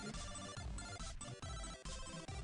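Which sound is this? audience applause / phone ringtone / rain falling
phone ringtone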